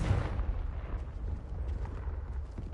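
A Confringo spell blast in the video game Hogwarts Legacy, a deep booming explosion that hits at the start and rumbles away into a decaying low roar, with no talk over it.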